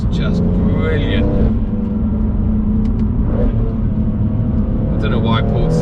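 Viper-tuned BMW M3 Competition Package, over 520 bhp, accelerating hard in second gear, a loud steady engine drone heard from inside the car with someone talking over it.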